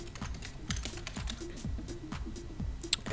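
Fingers type on a computer keyboard nearby, a quick irregular patter of soft key clicks with one sharper tap near the end, with no talking.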